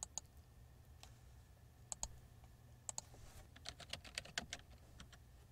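A computer keyboard is typed on in short, faint bursts of crisp key clicks, sparse at first, then a quicker flurry toward the end, close and quiet.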